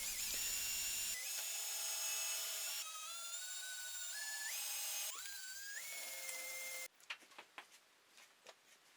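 A small drill bores pilot holes for screws in a wooden bird feeder, a high whine rising and stepping in pitch in stretches, then ending with scattered wooden knocks and taps.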